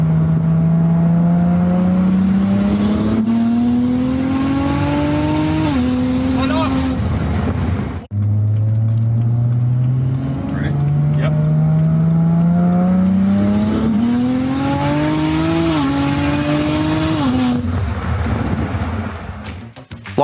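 A single-turbo BMW 135i accelerates hard in 4th gear, its engine note climbing steadily before a brief lift and a second long pull, loud and close from inside the car.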